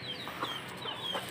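A fighting rooster recovering from fowlpox clucks softly a few times nearby, short quiet calls over faint background noise.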